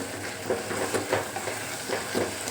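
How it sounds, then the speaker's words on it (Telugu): Prawn curry being stirred after coriander powder goes in, a quiet continuous sizzle with soft rhythmic scraping strokes of a spoon in the pan, fairly faint and without voices. "ధనియాల పౌడర్ వేశాక బాగా మిక్స్ చేసుకొని"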